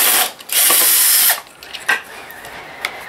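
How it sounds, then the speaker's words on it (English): A cordless drill or screwdriver backs a screw out of a wall-mounted socket outlet box, giving two loud whirring bursts at close range. A few light clicks and ratcheting taps follow. "Take the screw out."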